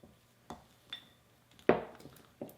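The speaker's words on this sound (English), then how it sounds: "I'm just going to take this spatula and just kind of scrape" A spatula scrapes around a bowl of melted chocolate for homemade chocolate ice cream, giving a few separate clinks and scrapes, one louder scrape in the middle, close up in a quiet kitchen.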